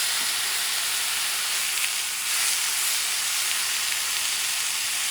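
Butter mix sizzling in a hot pan alongside a steak, a steady bright hiss and crackle of frying that holds evenly throughout, close and without talk.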